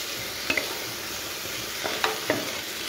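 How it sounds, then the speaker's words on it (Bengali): Food being stir-fried in a wok, a steady close sizzle with a few sharp scraping clicks of the spatula against the pan, alone with no talk. "চলো এটাকে ভাজা ভাজা করে নিই।"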